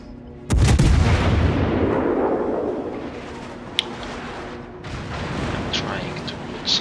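A heavy naval gun salvo booms in World of Warships and rolls away in a long rumbling decay. Fainter distant shots and splashes follow, with a voice talking over the action.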